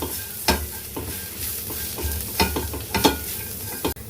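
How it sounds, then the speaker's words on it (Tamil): Chili powder, garam masala and other spices are stirred and sautéed in a pan for a cauliflower and sweet potato kola gravy, giving a soft steady sizzle broken by repeated scraping strokes of the spoon at close range. "இப்போ எல்லாத்தையும் சேர்த்து வதக்கிடுங்க."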